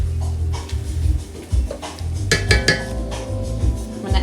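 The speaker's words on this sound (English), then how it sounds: "Scrape up everything on the bottom of the Dutch" Metal utensil scraping and clinking against the bottom of a Dutch oven holding tomato sauce, a series of close, repeated scrapes and knocks with a low kitchen hum beneath.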